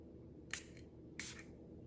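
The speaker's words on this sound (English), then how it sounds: "So I'm gonna spray some on my hand" Two quick hissing bursts from a pressurized perfume atomizer spraying oud fragrance onto a hand, each a short sharp puff, close and fairly soft against a quiet room.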